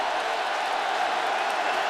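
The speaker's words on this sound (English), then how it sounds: "That score has brought this crowd back to life." Stadium crowd at a Clemson versus Syracuse college football game in 2013, roaring steadily after a Clemson score, a dense sustained wash of cheering with no break.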